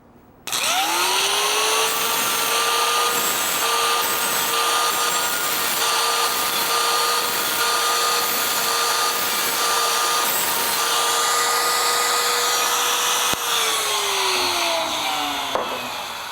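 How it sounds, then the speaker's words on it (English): Die grinder smoothing an edge on a sheet metal BBQ burger flipper, a loud, sustained high-pitched whine that spins up sharply, holds steady for about thirteen seconds with slight load changes, then winds down. "I need to go back to the other side with the die grinder and just do a wee little bit of grinding"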